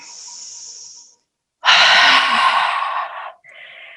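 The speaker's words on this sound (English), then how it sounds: "It's one time I like to breathe out through my mouth." Forceful exhale through the mouth during a yoga flow for back and hips, a single long breathy rush lasting nearly two seconds, close and loud, with softer breath sounds before and after.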